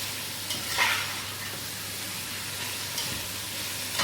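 Capsicum is stirred and mixed in a hot frying pan for Chinese masala rice, a steady sizzling hiss with a few brief spatula knocks and scrapes, no voices.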